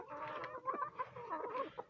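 Laying hens cluck close by, a busy run of short overlapping clucks and murmurs that rise and fall without pause.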